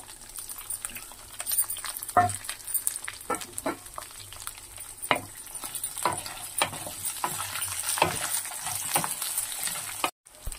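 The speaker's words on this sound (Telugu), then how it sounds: "ఇప్పుడు కట్ చేసుకున్న 2 ఉల్లిపాయ ముక్కలు వేసుకోవాలండి." Chopped onion pieces fry in a pan for tomato chutney, a quiet sizzle with scattered utensil taps and stirring knocks at irregular intervals, close by, before a brief drop near the end.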